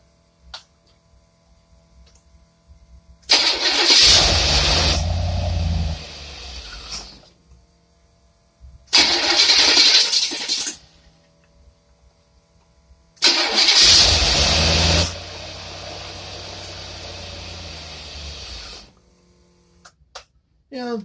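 A carbureted marine engine is cranked three times. Each attempt catches into a loud, rough run for a few seconds before cutting out, and quiet gaps fall between the tries.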